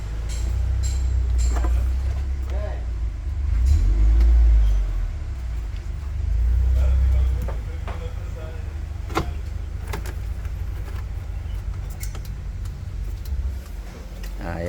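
Engine of a Suzuki APV van idles with a wrongly set timing belt, a steady low rumble with two swelling surges partway through, close up in a workshop, with light clicks and people talking now and then.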